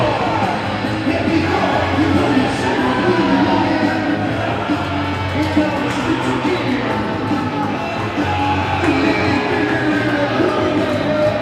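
Spirited alumni section cheering at a varsity ice hockey game in an ice arena, a steady crowd roar with scattered yells and whoops that stays loud throughout.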